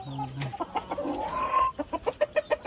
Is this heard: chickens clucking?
yes